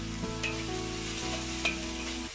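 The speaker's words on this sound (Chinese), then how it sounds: "将擎干水的四季豆加埋落嚟，炒匀匀它" Drained green beans stir-fried in a cast-iron wok, a steady loud sizzle with scraping stirs of the spatula throughout and a sharp clank at the end.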